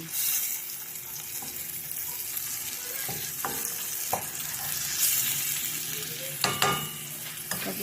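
Pork and chicken sizzle and fry steadily in a pan, with occasional stirring scrapes and clinks over a constant crackling hiss and no talking.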